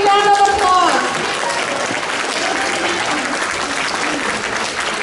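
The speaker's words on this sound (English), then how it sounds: "Let's give them a big round of applause." An audience at a community celebration day applauds the Tran family, a broad, loud wash of many hands clapping steadily, with a speaker's voice trailing off at the start before the applause carries on alone.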